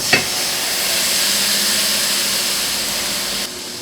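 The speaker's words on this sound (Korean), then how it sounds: "팬을 올려주시고 팬에 콩나물을 넣어주세요." Bean sprouts tipped into a frying pan raise a sharp clatter, then a steady, loud, broad hiss that runs for about three seconds before cutting off.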